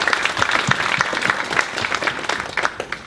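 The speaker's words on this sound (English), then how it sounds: "I just want to give a round of applause to our candidates" Audience applause for candidates at the opening of a forum, loud and close, with many hands clapping in a lively uneven rhythm that holds steady before tapering off slightly at the end.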